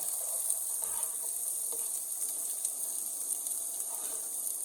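Chopped onions sizzle in extra virgin olive oil in a pan at the start of venison in red wine, a steady close frying hiss with faint crackles and stirring scrapes throughout, no talk.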